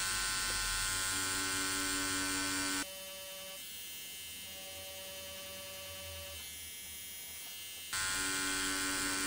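Electric tattoo machine buzzing with a steady high-pitched hum while inking black shading on a realistic skull tattoo, loud and close, pausing for several seconds in the middle before resuming.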